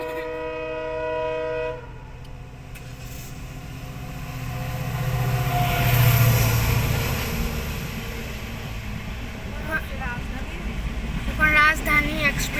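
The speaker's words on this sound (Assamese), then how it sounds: "গাইস ট্ৰেইন আহিছে আৰু" Rajdhani Express approaching and passing: a sustained horn blast opens, then the heavy rumble of the train swells to a peak and stays loud with rattling wagons and squealing wheels, with faint voices in the background.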